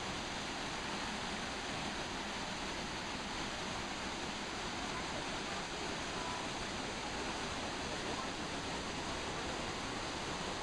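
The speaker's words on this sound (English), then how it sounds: "A few hours through the fields, and we made it to a waterfall." A steady, unbroken roar of rushing water from a waterfall in the fields near Sapa, Vietnam, fills the scene, constant and dense, with no voices or other sounds standing out.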